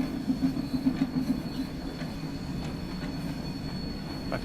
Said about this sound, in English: I can feel the train just starting to roll nice and easy now that the rest of the trains come over the hill.